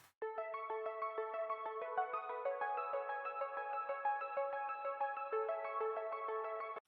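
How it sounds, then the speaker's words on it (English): Three layered synthesizers play together in a produced pop track, one of them carrying a delay effect, forming a dense, steady chord texture with repeating melodic notes that sustains evenly for about seven seconds with no voices. "Altogether the 3 synths sound like this."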